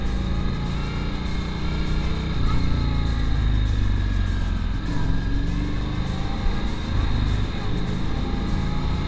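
A Honda Shadow VLX 600 motorcycle ridden in first gear on a road, a loud, steady low engine rumble with wind noise close to the rider, holding even throughout without revving hard.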